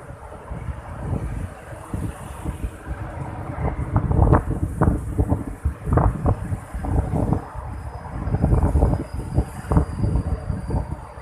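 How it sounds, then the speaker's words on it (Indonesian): Strong outdoor wind buffeting the microphone near a high-speed rail construction site with a girder launcher, irregular gusty rumbles and thumps rising and falling throughout, with no voices. "Ini karena banyak angin ya, lumayan besar"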